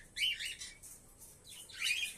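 A colony of pet birds chirps and tweets at early-morning soft-food feeding time, with bright overlapping bursts of calls in two clusters, fairly close and alone.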